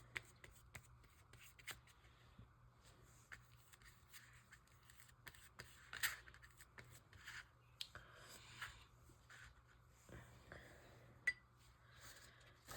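Scissors cut card paper for a handmade card background, giving faint, close, sparse snips and rustles in a quiet room.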